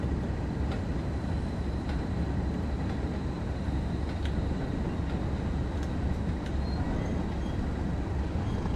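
A British Rail Class 31 locomotive runs past with a continuous rumble and rattle of wheels on track, with faint metallic clanks spaced through it, close and steady with no talking.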